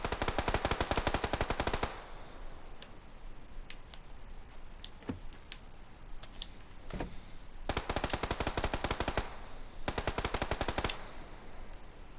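Rapid bursts of automatic gunfire in the video game PUBG crackle in several volleys, with scattered single shots and quieter gaps between them.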